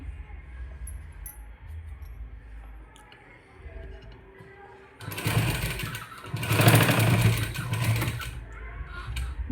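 A sewing machine stitches a quilt made from an old blanket. It is quiet at first under low background noise, then whirs loudly in a steady run of rapid mechanical stitching through the second half.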